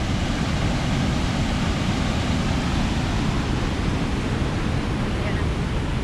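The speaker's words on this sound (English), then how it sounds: "Oh, yeah, there's the waterfall." A waterfall at the old mill in Cades Cove, a loud, steady, broadband rush of falling water, constant and unbroken with no distinct events.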